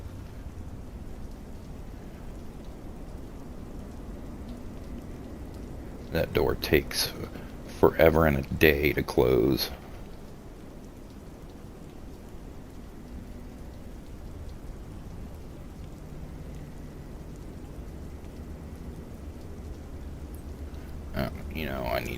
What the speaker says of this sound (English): Yep, sounds like it's still raining pretty good.